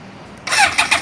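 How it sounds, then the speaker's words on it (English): A 2005 BMW K1200S motorcycle engine cranks and catches at about the halfway point, then settles into a loud idle with a few quick throttle blips. "So we'll give her a little start."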